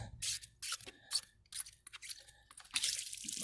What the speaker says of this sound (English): Open that up, let the water drain out.